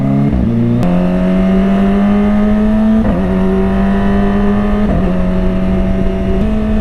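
A Kawasaki ZX25R motorcycle engine holds a loud, steady high-pitched whine close by, with brief dips and rises as the throttle shifts between gears.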